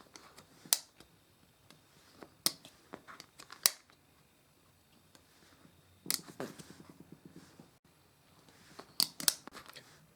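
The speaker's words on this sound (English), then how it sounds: "hook a rubber band onto the rotor, hold it in place with your thumb and stretch it to the front side. Click the rotor back with your thumb and repeat." Rubber loom bands loaded into a Bowslinger, with sharp plastic clicks as the rotor snaps back, occurring in scattered bursts close up, with faint rubbery stretching between them.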